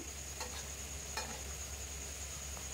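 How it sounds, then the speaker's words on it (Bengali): Semolina gulab jamun sweets frying in oil give off a faint, steady sizzle with a few soft ticks, and no one speaks. "এরকম করে আস্তে আস্তে আমি লাল লাল করে ভেজে নেব মিষ্টিগুলো"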